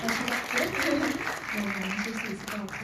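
An audience claps for a film director at a cine-talk event at Cinecube in Gwanghwamun, the steady applause running for about three seconds beneath a speaking voice.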